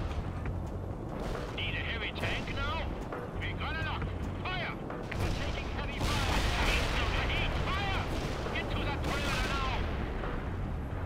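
Artillery and gunfire from the World in Conflict video game keep up a dense barrage of booms and crackling shots, mixed with game radio chatter and a person talking over it.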